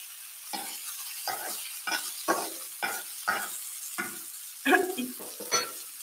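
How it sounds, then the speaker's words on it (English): Shrimp hitting a hot pan and being stirred: a run of short, regular scraping bursts over a soft sizzle, close by, with no voices. "now we go in with our shrimpies"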